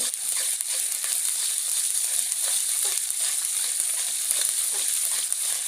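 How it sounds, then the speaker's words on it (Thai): Curry paste stir-fried with small fish (pla siw) for a Thai basil dish, sizzling hard and steady throughout with soft scraping stirs, close and loud. "ผัดพริกแกงอีกแล้ว ผัดพริกแกงพี่น้อง"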